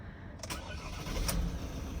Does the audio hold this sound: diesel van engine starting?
yes